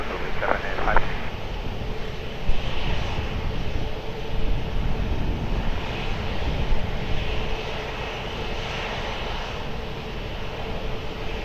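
An Azul airliner takes off from runway 20 at Lisbon Airport, its engines a broad, distant roar that swells and holds for several seconds, with radio chatter from air traffic control over it.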